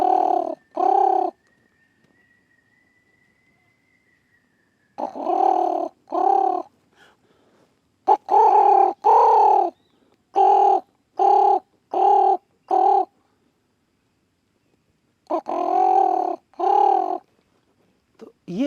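A bird in Jharkhand gives its mating call, loud crow-like caws repeated in short bursts of two to five, with pauses of silence between the groups.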